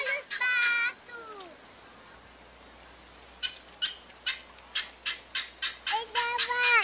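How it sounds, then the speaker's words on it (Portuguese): Ducks on a Teletubbies episode give a rapid run of sharp, evenly spaced quacks in the second half, after a voice is heard briefly at the start. "Olha os patos!"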